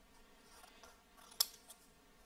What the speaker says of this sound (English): Cut off a little bit of the yellow.